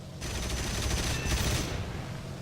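A 20mm cannon on a Pe-3bis heavy fighter fires in War Thunder, a dense, continuous roaring burst of rapid shots that stays loud and steady for the whole stretch, with no voices over it.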